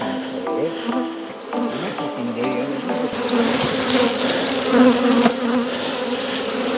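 Honeybees in a barrel hive being moved to a new home make a dense, close, continuous buzz of many wings, steady throughout with slight swells.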